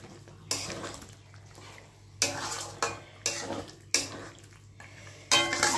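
Mutton and potatoes are sautéed in a pan, a utensil scraping through the thick mixture in about half a dozen distinct stirring strokes over a low kitchen background, close and fairly loud, with no talking.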